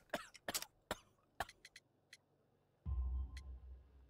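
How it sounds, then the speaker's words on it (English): Coughing from a character in the video game Sherlock Holmes: The Devil's Daughter, a coal-dusted, sick man: several sharp, harsh bursts in an irregular cluster over the first half, followed by a low rumbling background sound. "You have a severe cough."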